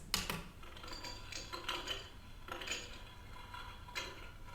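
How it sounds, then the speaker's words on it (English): A toy drink dispenser's ice button plays a clinking sound effect of ice cubes falling, four separate rattling bursts of hard tinkling spaced roughly a second apart, with no voice over them. "you can also press this to make it sound like the ice cube's falling."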